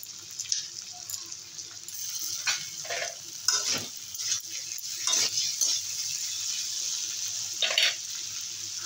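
Chopped tomato hits a hot frying pan and sizzles steadily while a utensil scrapes and stirs in intermittent bursts, close and moderately loud.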